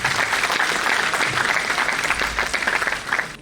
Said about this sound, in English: Let's give a big round of applause to my backbenchers first of all.